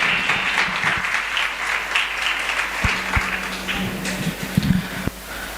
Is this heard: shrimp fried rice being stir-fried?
no